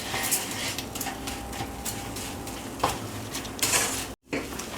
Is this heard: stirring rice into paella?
yes